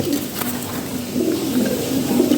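Lahori, Sirazi, Mundian and show king pigeons at a pigeon market coo in low throaty rolls, several overlapping calls close by that swell toward the end.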